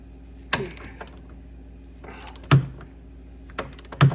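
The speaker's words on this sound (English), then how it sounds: "So we're using the big torque wrench." A big torque wrench tightens bolts during a 2-inch lift kit install on a Polaris Ranger 900xp, giving a few sharp ratcheting clicks and clunks spaced apart in a quiet space.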